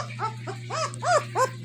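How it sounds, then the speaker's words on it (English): A two-week-old German Shepherd puppy cries in a run of short, rising whimpers and yips, close and fairly loud over a steady low hum. "Put this crying puppy back."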